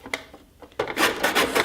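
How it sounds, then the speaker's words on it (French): Citron being grated by hand for a Mediterranean guacamole, a close dry rasping scrape that starts with a few light strokes and then turns into steady, louder continuous grating. "le cédrat que j'ai déjà coupé en deux et que je vais râper"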